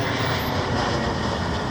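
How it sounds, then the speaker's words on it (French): A passing airplane roars overhead near a parked camper van, a loud, steady broadband engine rumble filling the whole short moment. "un autre avion qui passe"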